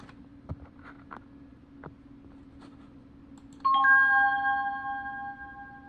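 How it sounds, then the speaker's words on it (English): A few faint ticks over a low hum, then a bright bell-like chime rings out and slowly fades. "the same patch as the one Dick Maitland uses for counting chime sound effects"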